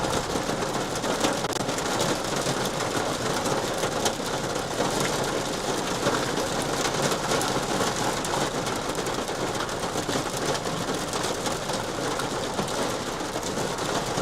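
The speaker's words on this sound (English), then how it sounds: "That's the rain." Heavy rain pours down steadily and loudly outdoors, a dense continuous hiss of drops drumming on surfaces with a low rumble underneath, unbroken and close for the whole stretch with no talking.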